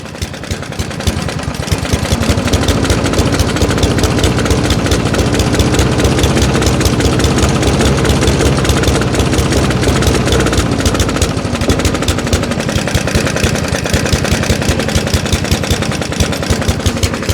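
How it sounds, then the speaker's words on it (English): A lawn mower engine runs loud and close for a long stretch, its rapid clicking and knocking churning continuously as it is revved, with no pauses. "It's really clicky, really knocky. It's not doing bad. Let's see if I can rev it up."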